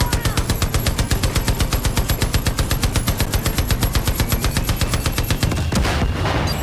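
A machine gun in the video game Far Cry New Dawn firing a long, evenly paced burst of rapid rounds, loud and close, before cutting off into a brief noisy tail.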